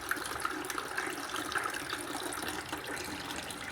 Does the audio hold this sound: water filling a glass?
yes